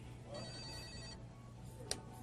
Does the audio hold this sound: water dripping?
no